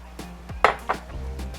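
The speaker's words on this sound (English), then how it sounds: "We're just going to mix this up. Stir it up." A spoon stirs a Filipino vinegar dipping sauce in a bowl with a few sharp, close clinks and taps against the dish, then a brief scrape.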